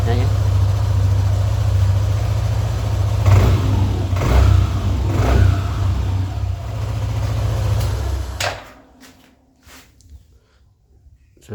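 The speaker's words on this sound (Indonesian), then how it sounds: "Kita akan coba tarik gasnya ya." A motorcycle engine runs loud and close, revving in several surges as the throttle opens, then cuts out near the end and leaves quiet with faint clicks.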